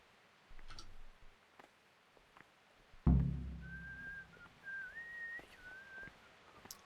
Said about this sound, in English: Is whistling allowed?